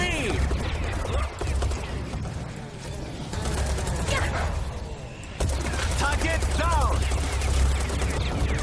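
Rapid gunfire from shooting enemies in Serious Sam 4, a dense, loud stream of shots and mechanical clatter that runs throughout, with voices and game sounds mixed in.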